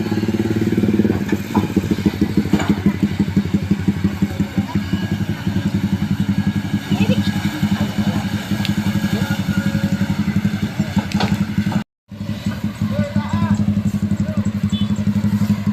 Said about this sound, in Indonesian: ini kendaraan roda 2 yang datang dari sebelah kiri menuju ke arah kanan